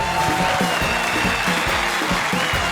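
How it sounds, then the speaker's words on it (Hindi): Studio audience at a TV comedy show clapping in a continuous, dense wash of applause, loud and close, with no talk over it. "प्लीज तालियों के साथ स्वागत कीजिए सुमन की चंडाल चौकड़ी का राजीव काम्या और कृष्णा सुदेश"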